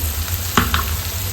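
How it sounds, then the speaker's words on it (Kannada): Spices for a capsicum curry fry in a pan with a steady close sizzle, broken by two quick scraping stirs. "ಚೆನ್ನಾಗಿ ಫ್ರೈ ಆಗಿದೆ ಅದು ಇವಾಗ"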